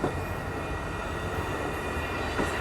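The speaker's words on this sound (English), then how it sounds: "There it goes, you guys. That train is on its way to Los Angeles." Amtrak Coast Starlight passenger train No. 11 passing at 98th Avenue in Oakland, California, a continuous rumble of rolling cars and wheels on rail, steady and fairly close with no voices.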